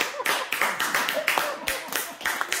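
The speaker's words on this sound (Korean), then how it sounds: "박수." A small group claps briskly in a steady, evenly spaced rhythm of about a dozen loud, close claps during a hair-care product session.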